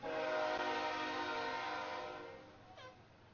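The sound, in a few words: train passing with horn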